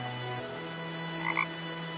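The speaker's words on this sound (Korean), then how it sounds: "지금도 비 오는 날 냇가에 나가보면 어디선가 개굴개굴 울음소리가 들려." Frog croaks by a stream on a rainy day, a brief pair of close calls near the end over a faint steady background hum.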